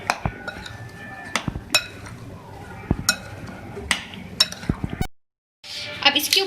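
A spoon stirs sugar-sweetened yogurt into chana fruit chaat in a bowl, giving a series of sharp clinks and scrapes against the dish at irregular intervals, close and fairly loud, with a brief silent gap near the end.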